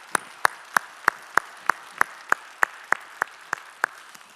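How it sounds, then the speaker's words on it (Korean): Rhythmic, evenly spaced claps ring out in unison, about a dozen sharp beats at a steady pace from a church congregation during a Sunday worship service, moderately quiet and with no talking. "우리가 격려의 박수 한번 보내겠습니다"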